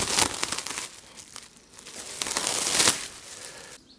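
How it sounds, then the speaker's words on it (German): Marinated pork shoulder for pulled pork is unwrapped from its wrapping, giving loud, close crinkling and tearing bursts that ease off midway, swell again, then stop abruptly. "Wir sind jetzt soweit, dass wir es auspacken können wieder."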